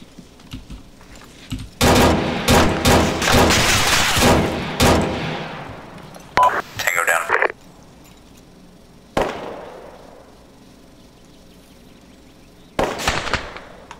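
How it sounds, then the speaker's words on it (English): Bursts of gunfire in Arma 3 co-op combat in a town near a church, with loud rapid volleys, a sharp crack around nine seconds and a closing burst, echoing with some distance and no talk. "No idea where the shots are coming from, though."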